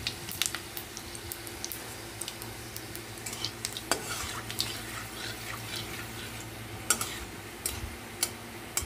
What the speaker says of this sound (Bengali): কড়াইয়ে তেল দিয়ে দিয়েছি, দিয়ে দেব একটু শুকনো লঙ্কা ফোড়ন, দিয়ে দেব একটু পাঁচ ফোড়ন